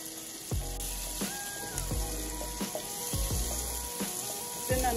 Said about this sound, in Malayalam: ഇത് നന്നായിട്ട് ഉള്ളിയും പച്ചമുളകും വെളുത്തുള്ളിയും കൂടി നന്നായിട്ട് ഫ്രൈ ആക്കാം.